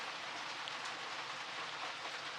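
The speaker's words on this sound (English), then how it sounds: "The wind with the rain pretty much pushed the rain under the awning here" Wind-driven rain pours onto an awning in a steady, dense hiss that fills the whole stretch evenly, with no pauses or voices over it.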